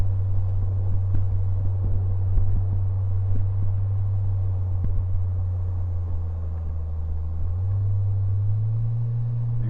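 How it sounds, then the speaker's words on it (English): A Rewaco trike's engine hums with a steady low drone, then the pitch steps up as the rider downshifts near the end. The engine runs close and continuous, with no talking. "See where I'm downshifting it."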